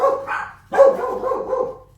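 Dogs bark at home, a couple of loud close barks followed by a rougher run of yips and whimpering bark sounds, with no talking over them.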